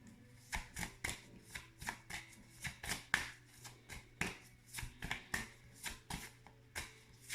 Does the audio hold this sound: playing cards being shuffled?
yes